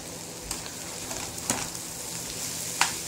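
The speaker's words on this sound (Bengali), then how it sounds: "এখন করলা ভাজি করলাম, করছি," Bitter gourd frying in a pan in a mix of olive oil and soybean oil, a steady close sizzle with a few sharp stirring clicks and scrapes.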